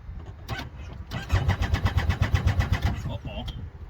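A 2017 Yamaha YXZ 1000R SS side-by-side engine in four-wheel drive, rising from a rough start into a loud, rapidly pulsing rev close by, then dropping off, with a voice briefly heard.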